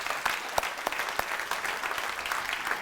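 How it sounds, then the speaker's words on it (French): An audience applauds volunteers at a 40th-anniversary event for the hospital foundation of La Malbaie, a dense, steady patter of clapping from a mid-sized crowd with a few sharper individual claps standing out. "Je pense que ça mérite un bon applaudissement pour tout le monde qui a été bénévole."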